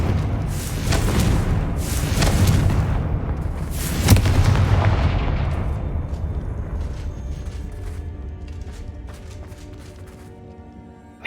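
A Confringo fire spell in Hogwarts Legacy lets off a run of heavy booming blasts, loud and rumbling, then trails away into a long fading rumble.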